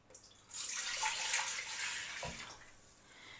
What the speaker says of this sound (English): Give that bicarb a little shimmy, because that's all going to stay in the bottom if I don't mix it round.